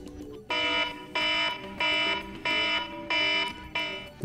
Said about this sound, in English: as you can see, the alarm ringtone is now set